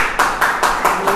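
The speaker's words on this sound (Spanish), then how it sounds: "por eso dan un aplauso" A small audience at a weekly study class claps in five sharp, evenly spaced bursts, a quick unison rhythm close by, with a voice faintly present.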